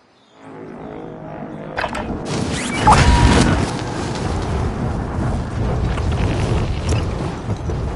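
A bomb detonation from a video game airstrike builds from quiet into a loud, sustained rumbling blast, peaking around three seconds with crashing debris and a long roaring tail.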